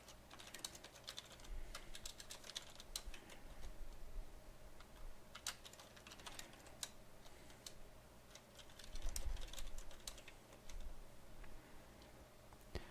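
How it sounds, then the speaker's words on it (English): Tooltip text being typed on a computer keyboard: quiet, continuous clicking keystrokes in irregular bursts, close and faint, with no speech. "And then I'll type the text in that I want."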